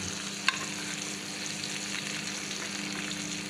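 Milkfish (bangus) sizzles in a pan of hot oil with a steady crackling hiss and one sharp pop near the start.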